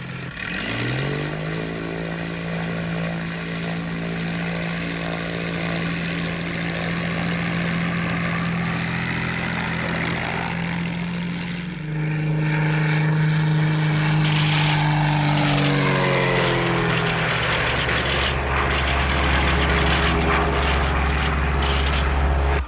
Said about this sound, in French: Scott, je viens de le voir s'enfuir à bord d'un avion. Il va vers le sud. C'est un petit avion de tourisme.